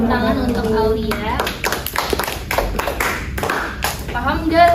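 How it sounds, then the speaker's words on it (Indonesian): Scattered, uneven claps ring out in a school classroom for a student, mixed in with pupils' chatter and talk throughout. "kita kasih tepuk tangan untuk Aulia"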